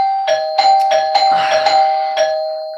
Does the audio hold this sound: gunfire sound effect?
no